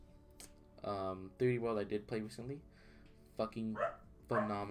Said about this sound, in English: Sorry about the dog, by the way.